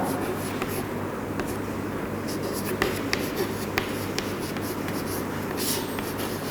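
During a computer class lesson, a teacher writes on a board: quick, scratchy strokes and taps in an irregular rhythm, with a voice talking through them.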